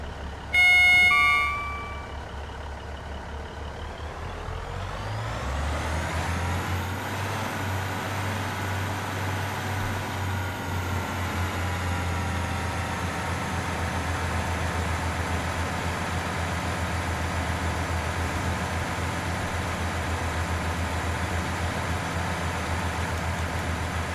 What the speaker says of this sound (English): Something's gone wrong with the train.